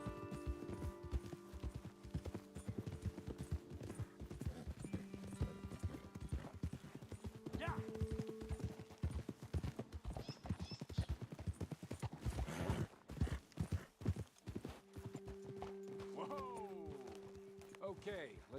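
Horses' hooves clip-clop steadily in the Red Dead Redemption 2 game world, a continuous hoofbeat rhythm at moderate distance with occasional whinnies and game ambience, while someone talks over it.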